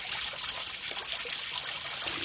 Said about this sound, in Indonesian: Setelah itu, ikan aku bilas menggunakan air mengalir.